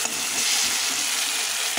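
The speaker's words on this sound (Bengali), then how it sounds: "এই টমেটোটা একটু ভাজা ভাজা হয়ে গেছে" Chopped tomato frying in hot oil in a pan, a steady loud sizzle with light stirring, close and continuous with no talking.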